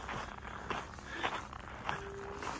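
Footsteps of someone walking outdoors on a path in Kugluktuk, Nunavut, a steady close stride of soft crunchy steps with light background noise.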